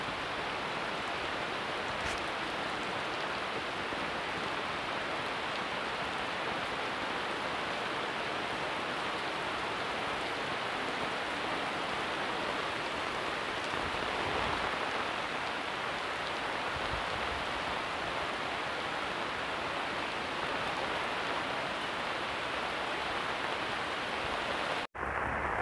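Heavy rain pours over a flooded paddy field, a dense and steady roar of water that stays even throughout, with no voices.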